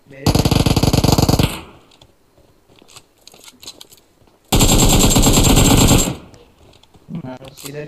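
Automatic gunfire in the PUBG Mobile video game, two long rapid bursts of loud shots separated by quieter clicks and scattered sounds, with a short burst near the end.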